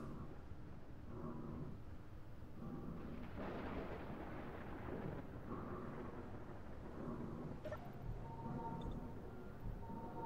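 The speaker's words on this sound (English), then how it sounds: "Ooh, there's lightning." Thunder from lightning rumbles in the Space Engineers survival game, a broad continuous roar with a heavier swell midway, lasting throughout with no talk.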